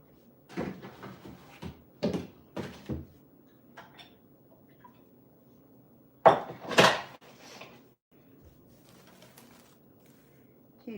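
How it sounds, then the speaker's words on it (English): Dishes and kitchen items clatter and clunk in quick bursts as they are lifted out of a sink, close and fairly loud, with quiet pauses between groups of knocks. "Let me move thing out of the sink so she can cook."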